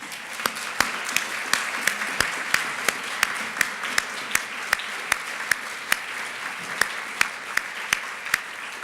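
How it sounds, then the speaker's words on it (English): A conference audience applauds steadily at the closing of an arms control event, a dense run of close, sharp claps repeating evenly throughout without speech. "let's give everybody a round of applause."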